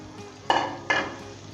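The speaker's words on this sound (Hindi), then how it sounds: "1 मिनट के लिए हम इसे फ्राई करेंगे अच्छे तरीके के साथ, अदरक लहसुन को" Ginger and garlic frying in a pan for mutton achar gosht, with two quick stirring scrapes over a soft background sizzle, close and moderately loud.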